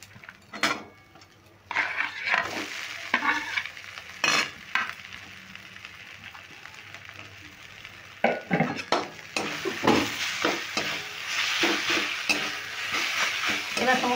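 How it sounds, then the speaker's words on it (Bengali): Grated potato and carrot sizzle as they fry in a pan and are stirred with a utensil, with soft frying hiss under repeated scraping and clinking strokes, close and moderately quiet. "এবার দিয়ে দেবো গ্রেট করে রাখা আলু আর গাজরগুলো"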